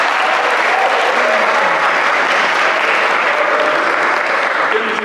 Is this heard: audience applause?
yes